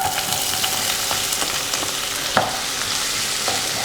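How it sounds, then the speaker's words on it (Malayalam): Cloves, cinnamon and pepper sauté in a hot pan for a paneer peas pulao, a loud, dense, continuous sizzle with a few light clinks of stirring, close up and without voices. "ഇനി ഇത് നന്നായിട്ടൊന്ന് മിക്സ് ചെയ്ത് കൊടുക്കുക. ഒന്ന് വഴറ്റി കൊടുത്തതിന് ശേഷം"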